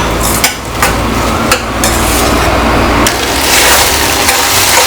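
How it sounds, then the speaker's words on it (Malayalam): Oats upma with grated coconut stirred in a pan, with repeated scraping and knocking of a spoon against the pan over a dense, loud sizzle. "നന്നായിട്ടൊന്ന് മിക്സ് ചെയ്ത് കൊടുക്കാം."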